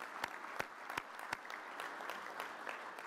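An audience at the PGA of America annual meeting applauds for Kate Campbell, a moderately distant, even patter of many hands clapping with a few sharper individual claps standing out.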